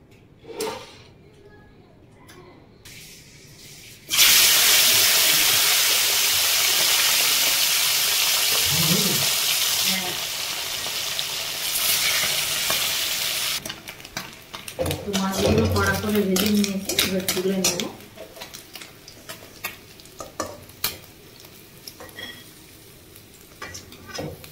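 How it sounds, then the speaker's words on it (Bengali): Fish pieces dropped into hot mustard oil give a sudden loud, hissing sizzle that runs steadily for several seconds, then softens and gives way to clattering of utensils against the pan, with brief voices and quieter stretches around it. "তেলটা গরম হয়ে গেছে, এবারে মাছগুলোকে ভেজে নেব"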